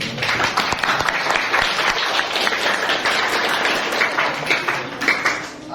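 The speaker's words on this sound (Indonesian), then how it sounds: "kita berikan tepuk tangan untuk hasil poster dari kelompoknya Deva" Classroom applause for a student group's poster, a dense, steady burst of many hands clapping close by for several seconds, with faint voices mixed in.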